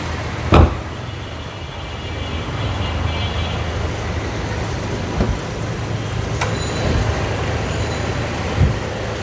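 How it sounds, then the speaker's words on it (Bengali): Toyota Land Cruiser Prado idling with a steady, mild low engine hum throughout, punctuated by a few brief knocks and clicks nearby, with no talking. "ইঞ্জিনটা স্টার্টে আছে একদম কিন্তু মাইল্ড সাউন্ড"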